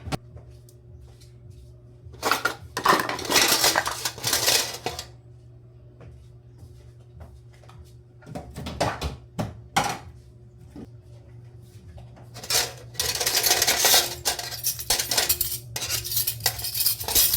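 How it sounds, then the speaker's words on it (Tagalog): Dishes, pots and cutlery get washed in a home kitchen, with bursts of running water and clinking utensils separated by quieter stretches of light clatter, close by and with no talking. "So, maghuhugas muna ako. At aayusin yung mga hinugasan kagabi."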